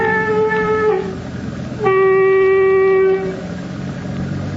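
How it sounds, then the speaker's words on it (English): A ship's foghorn sounds two loud, steady, tonal blasts, the second one longer, against a low background hum. "Get ready, Captain Lawson, to blow your foghorn. 2 blasts."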